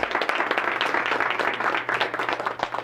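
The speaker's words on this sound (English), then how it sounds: "Let's give them a round of applause real fast." Audience applause at a real estate sales training meeting, dense steady clapping from many hands held at an even level for the whole stretch, with no voices.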